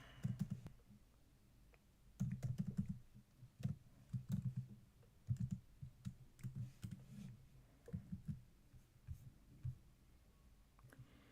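Golang code is typed on a computer keyboard in quick irregular bursts of close, light key clicks separated by short pauses, quiet and without voices.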